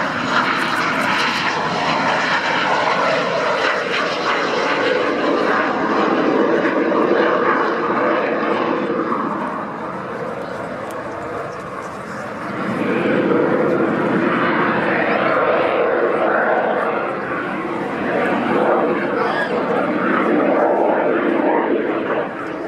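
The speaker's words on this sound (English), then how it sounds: "Thankfully, you see the two jets coming through." Two jets sweep through an air show at RNAS Yeovilton, a broad, loud engine roar that holds, dips briefly near the middle and swells again, with a commentator's voice running over it.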